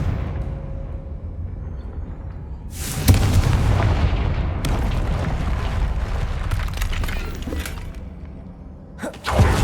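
A blasting spell in the video game Hogwarts Legacy goes off as a sudden, heavy boom over a low rumble. Crackling debris noise sustains for several seconds, and a second sharp burst hits at the end.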